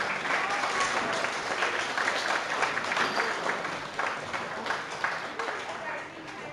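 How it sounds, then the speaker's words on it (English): A crowd at a school award presentation claps for Principal's Award recipients, dense steady applause from many hands that holds for several seconds before tapering slightly. "A round of applause for our recipients of the Principal's Award."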